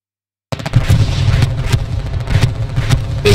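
Artillery bombardment in the World War II shooter Hell Let Loose, a dense barrage of booming impacts and rumbling blasts rolling in after a moment of silence, with several sharper crashing hits standing out through continuous loud low rumble.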